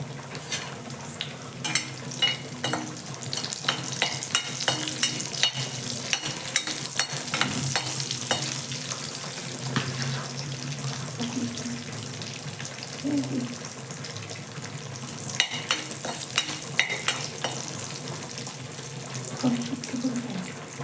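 Curry leaves dropped into hot oil for tomato chutney, a bright crackling sizzle with bursts of spitting and stirring scrapes, close and fairly loud, a faint voice now and then underneath.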